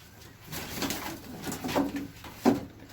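Eke pigeons in a loft give a few low throaty coos, close and moderate, with a sharper knock or wing clap near the end.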